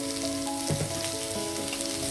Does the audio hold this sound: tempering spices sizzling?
yes